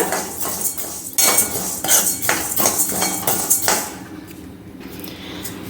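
Toor dal being dry-roasted in a kadai over a medium flame, the lentils rattling and scraping against the metal under a spoon in quick rhythmic strokes, loud and close, then easing off into near quiet.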